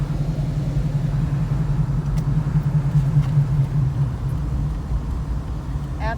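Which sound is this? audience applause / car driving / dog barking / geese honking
car driving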